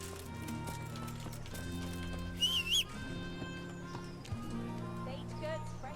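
Hooves clip-clop steadily beneath game music in Kingdom Come Deliverance, with a short horse whinny cutting in midway, moderately loud over the soundtrack.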